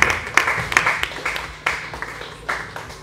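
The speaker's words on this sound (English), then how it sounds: "Please give him a big round of applause" An audience at a film series premiere applauds in a steady burst of close, overlapping hand claps, sharp spikes rising from a continuous clapping wash with some voices underneath.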